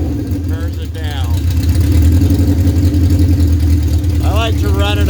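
A Honda CB750 motorcycle idling at about 1200 RPM while warming up, a steady low throbbing engine note that stays even throughout, close by, with someone talking over it.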